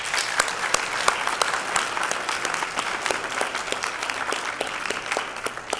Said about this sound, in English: But I think a round of applause is an honor.